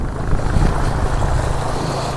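Strong water rushes at high tide beside a dike, giving a loud, steady, broadband roar that stays constant with no speech over it.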